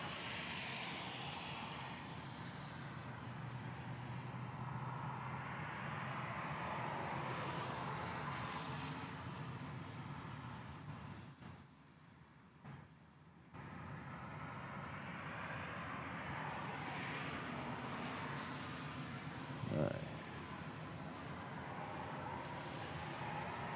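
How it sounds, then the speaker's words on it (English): A Boeing 717 jet departing on the reef runway at Honolulu airport, a loud, steady broadband engine roar heard up close that holds nearly throughout, dipping briefly partway before swelling again. "We have a 717 going out on the reef runway"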